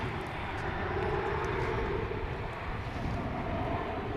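A departing American Airlines jet bound for San Antonio at Dallas/Fort Worth Airport gives off a steady, fairly distant engine roar with wind-like rumble, holding level throughout without any voices.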